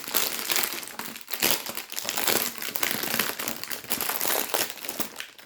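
Plastic packaging around a plush Warriors cat toy crinkles and crackles loudly and close up as it is torn open, a dense continuous rustle with short dips.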